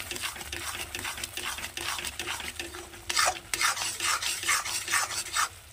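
Egg halwa roasting in a pan is stirred with a spoon, giving raspy scraping strokes over a low sizzle; the strokes grow louder and more rhythmic partway through.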